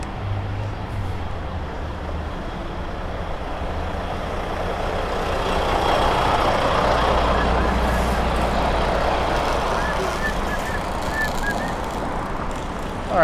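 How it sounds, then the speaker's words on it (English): A truck idles and creeps in downtown Toronto street traffic, a steady low rumble with broadband road noise swelling in the middle and brief high chirps near the end. "Is this truck trying to turn?"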